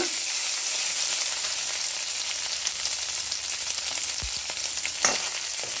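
Dried methallu fry in a pan for a raw banana curry, producing a steady, dense sizzle with a few soft stirring clinks and no talking.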